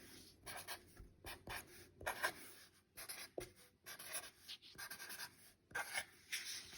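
Pencil or pen writing out notes for a fourth-grade composition, soft scratchy strokes in short bursts with brief pauses, close and quiet, no voices.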